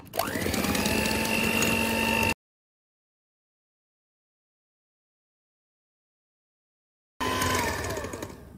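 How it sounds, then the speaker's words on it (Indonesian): An electric hand mixer whirs steadily as it beats putu ayu batter with thin coconut milk, loud and close, stopping abruptly for a long silence before the motor starts again. "Mixer semuanya dulu ya sampai 3 menit."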